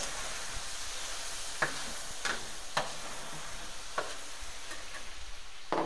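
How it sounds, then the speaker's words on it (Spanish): Paprika being stirred into fried tomato in a hot pan for seasonal rice with free-range chicken, artichokes and broad beans: a steady close sizzle runs throughout, broken by several sharp scraping clicks of the spoon against the pan. "Ya tenemos el tomate frito, añadimos el pimentón le damos dos vueltas."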